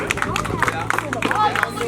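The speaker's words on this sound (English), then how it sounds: "Lucas wants a round of applause, boys." Sports team clapping at an end-of-season presentation night, a quick patter of several hands close by, mixed with chatter and background crowd noise.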